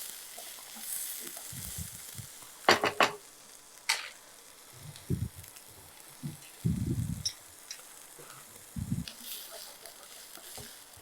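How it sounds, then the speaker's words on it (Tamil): Onions sizzle softly in a pan while cooking for eggplant masiyal, broken by intermittent scrapes and clinks of a spoon stirring. "அந்த வெங்காயம் வந்து நல்லா வதங்கி வர வரைக்கும் நம்ம வெயிட் பண்ணலாம்"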